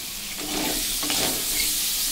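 Small cubed, salted potatoes drop into hot oil and start to fry, a dense, close sizzle that swells after the first half second and holds steady, with no voices.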